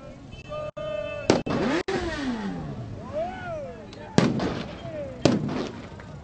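Explosions from a flare thrown at the front of the 2012 Independence March crowd: several sharp, loud bangs spaced a few seconds apart, with whistling, rising and falling tones and crowd noise and voices around them.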